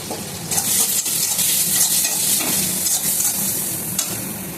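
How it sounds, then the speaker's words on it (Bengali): Chili powder, turmeric, cumin and salt fry in oil for a boal fish curry, a steady close sizzle with scraping strokes of stirring running through it. "তো আমি এবার মশলাটাকে পুরো কষিয়ে নেবো তেলের মধ্যে।"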